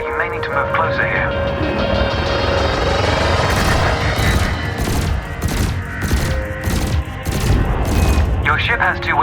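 Ship weapons in Elite Dangerous fire in rapid, loud bursts at floating canisters, with repeated blasts stacked over a steady engine hum while a voice speaks instructions throughout.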